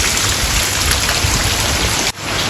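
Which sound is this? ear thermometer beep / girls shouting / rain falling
rain falling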